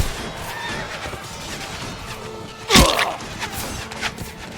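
A horse whinnies sharply in a Lord of the Rings video game, a single loud neigh cutting through steady battle ambience with faint hoof and clatter noises around it.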